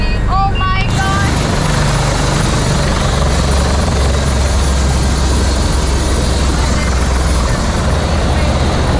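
A helicopter touching down at the end of a sightseeing ride during an Indian road trip. The rotor and engine roar fills the whole stretch, loud, close and steady, with a few brief high chirps at the start.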